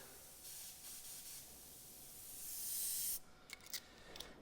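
An airbrush with a fine nozzle and needle sprays white paint in a soft, faint hiss that swells over a few seconds, then breaks into short, sputtering bursts.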